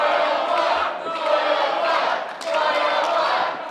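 A live wrestling crowd roars and cheers for Jet Royal during an independent wrestling match, a dense sustained wall of voices with swelling shouts, heard at a distance in an indoor arena.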